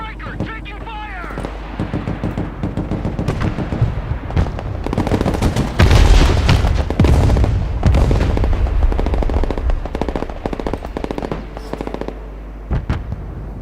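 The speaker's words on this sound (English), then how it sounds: "Their artillery fires volley after volley without repositioning." An artillery and gunfire barrage in the video game Broken Arrow: repeated booming volleys and crackling shots, dense and loud, swelling to a peak midway, with voices speaking over the battle.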